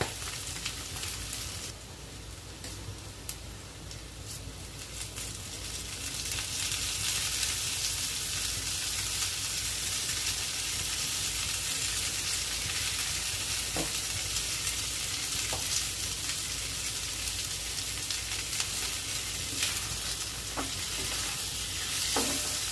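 Potato curry frying in a pan: a soft, close sizzle that grows into a steady hiss, with a few scattered stirring clinks and no voices.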